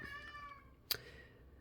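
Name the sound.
cat meowing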